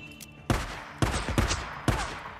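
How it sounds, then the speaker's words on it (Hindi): Gunfire in the video game Days Gone: several sharp, loud shots crack out about half a second apart over a dense, noisy background, with no talk during them. "हर तरफ से गोलियां चल रही है"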